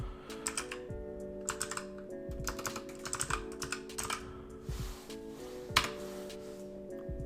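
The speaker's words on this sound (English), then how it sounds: "someone comes in here and they type in the email" Keys clatter on a computer keyboard as an email address is typed into a web form, in quick bursts of close, crisp keystrokes with short pauses between them.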